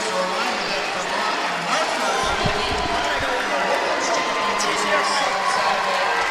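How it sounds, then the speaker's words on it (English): Home crowd of UVM Catamounts basketball fans cheering and applauding in an arena as the team leaves the court, a dense, steady roar with scattered whoops, while an announcer talks over it. "One more chance to soak in this crowd as the Catamounts leave the court"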